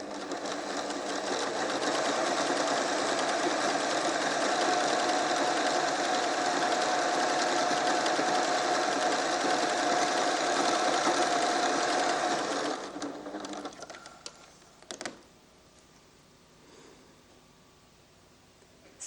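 Pfaff Creative 1471 sewing machine from 1987 overcasting a seam, a steady close mechanical hum and rapid needle clatter running continuously for about thirteen seconds, then stopping, followed by faint handling noises.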